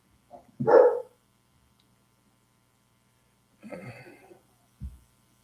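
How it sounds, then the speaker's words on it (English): A dog barks a few times in a quiet setting: one loud bark, a pause, then a rougher bark and a short low woof. "my dogs are barking"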